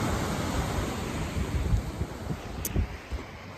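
Ocean surf rolls in at Van Damme Beach in Mendocino, California, a continuous wash of waves mixed with gusty wind buffeting the microphone, with no voices.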